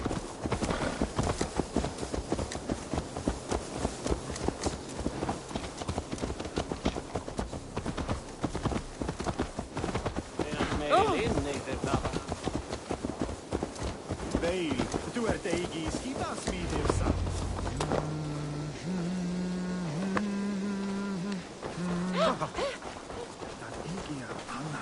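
Horse hooves clip-clop steadily throughout in Assassin's Creed Valhalla, with voices talking over them and a short whinny-like sound near the end.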